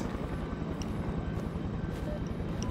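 Steady whirring rotor drone of a helicopter in the horror video game They Are Here, constant and fairly loud with a pulsing low thrum, no voices.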